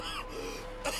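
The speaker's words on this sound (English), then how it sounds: "Is he coughing blood?" A man coughs and hacks in Red Dead Redemption 2, a close, rough throat-clearing burst followed by a second harsh cough within a second.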